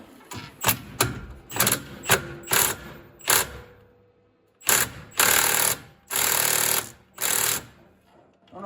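A small Milwaukee power tool hammers in short bursts, about a dozen choppy rattling impacts with pauses between them, while pulling the clutch off a John Deere 625i Gator utility vehicle.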